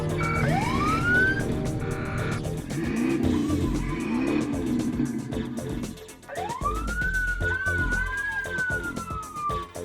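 A Ford Mustang Cruiser police siren in the racing video game Midtown Madness wails in rising and falling sweeps over a loud, roaring car engine, with tires squealing as the vehicle races along.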